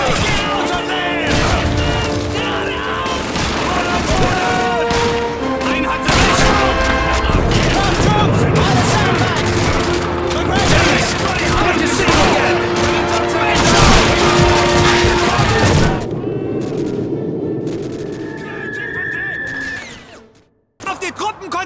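Dense World War II gunfire from Call of Duty 2 at El Alamein, with rifle and machine gun bursts, explosions and shouted orders piling up continuously and loudly before a sudden drop near the end.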